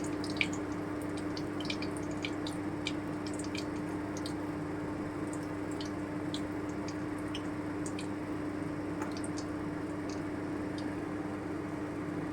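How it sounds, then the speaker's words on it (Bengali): Bhetki fish fry dropped into hot oil over lowered heat crackles steadily, with scattered sharp pops throughout and a faint low hum underneath, no voices. "এই যে আমি এবারে ছেড়ে দিচ্ছি তেলে"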